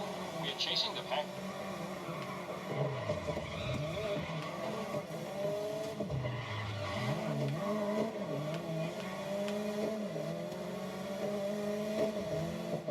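Race cars in a racing video game roar and rev continuously through a lap, engine pitch rising and falling with gear changes, with a commentator talking over the steady engine noise.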